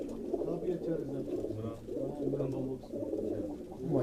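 Pigeons cooing on a rooftop in Quetta, a steady run of low, throaty coos close by with someone speaking over them at times.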